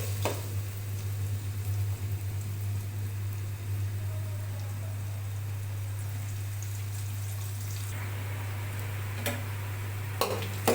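Onions fry in a pan for biryani, a soft steady sizzle with light crackles above a constant low hum, and a few sharp clinks near the end; no one speaks.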